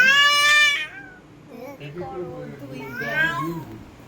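A small kitten gives a few high, drawn-out meows at the start and again near the end, with soft voices murmuring in between.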